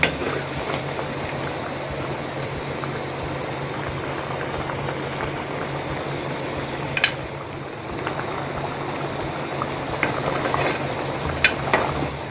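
A pot of pomfret fish curry bubbles and simmers steadily, a continuous soft gurgling hiss with occasional pops, nobody speaking.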